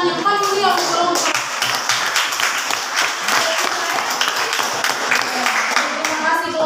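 A classroom audience at a junior high school gives a student group loud, lively applause after its presentation. Rapid hand claps continue throughout, with a few voices mixed in.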